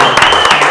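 Brief burst of crowd applause for a band at a live event in Monterrey, dense and loud, with a voice shouting over it.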